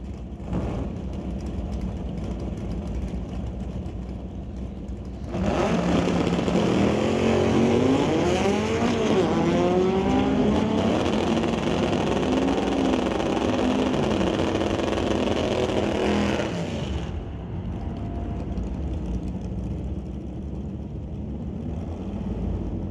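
A 1977 Camaro and a 1964 Volkswagen Beetle launch in an NHRA drag race, engines roaring loud and close for about eleven seconds as they rev and accelerate away, then fading back to low ambient track noise.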